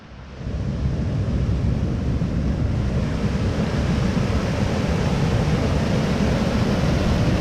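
Kitchen Creek rushes along a waterfall trail at Ricketts Glen, a continuous, even wash of flowing water that sets in after a brief quieter start and holds steady with no talking.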